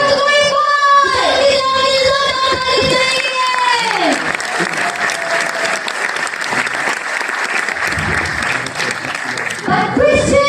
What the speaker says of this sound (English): Let's clap for the Lord God.